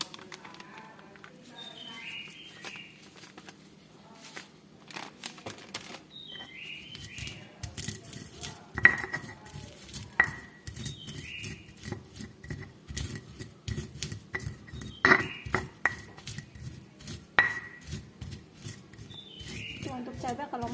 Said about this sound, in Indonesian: Nah ini udah kita goreng, tinggal kita ulek ya. Terus kasih kencur, ini kencur biar kerasa kencur.